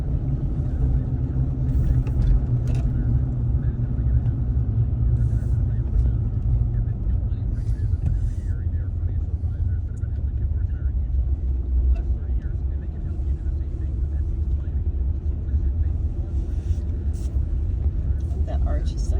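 A vehicle drives through a tunnel cut into a cliff on the way to Sand Hollow, with a heavy, steady low rumble of engine and road noise throughout and people talking over it.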